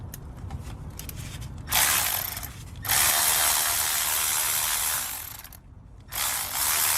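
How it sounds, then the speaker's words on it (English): A ratchet wrench works loose the AC compressor bolts on a 2002-06 Hyundai Santa Fe, giving close bursts of fast, rasping clicks separated by short pauses and quieter handling noise. "I might have to use a wrench."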